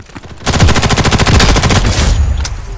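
Rapid SMG fire in a Ghost in the Shell video game, one long sustained automatic burst of evenly spaced loud shots, close up, ending with a few trailing clatters.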